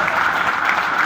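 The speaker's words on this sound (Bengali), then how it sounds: "আমাদের সিনিয়র স্যার মুস্তাফা স্যারের জন্য জোরে একটি করতালি।" Audience clapping loudly for a senior leader at a gathering, a dense, even burst of many hands applauding through the whole brief moment.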